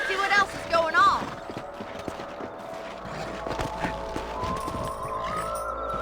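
Horses ride in the Red Dead Redemption video game, their hooves clip-clopping in a steady rhythm under game ambience and music, with a voice speaking at the start.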